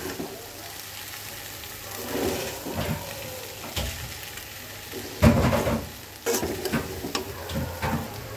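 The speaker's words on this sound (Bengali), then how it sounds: "এবার এটাকেও সুন্দর করে আবার মিক্সড করে দেব।" Vegetable noodles in tomato sauce and soy sauce being stirred in a pan, a soft continuous sizzle with intermittent scraping strokes of the utensil, close and moderately loud, with no talking.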